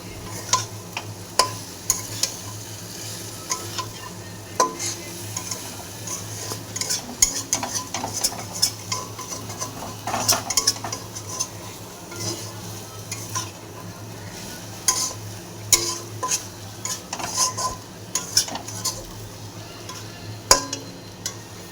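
Fried potatoes are stirred in a sizzling pan, with a spoon scraping and clinking against the metal in irregular strokes over a steady frying hiss.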